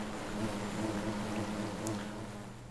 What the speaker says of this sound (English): So that's the bees.